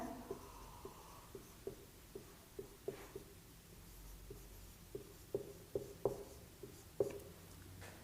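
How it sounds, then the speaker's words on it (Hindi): Chalk taps and scratches on a board in a series of short, sharp strokes as parts of speech are written out. The strokes come irregularly and grow firmer toward the end against a quiet room. "पार्ट ऑफ स्पीच लिखते हैं।"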